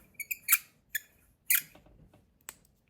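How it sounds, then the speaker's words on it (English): Squeaky makeup packaging gives several short, sharp squeaks up close, spaced irregularly across the moment with quiet gaps between them and no talking. "Packaging is a little squeaky."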